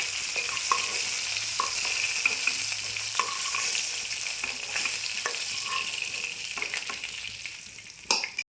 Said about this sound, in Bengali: যে গোটা জিরে ফোড়ন দিলাম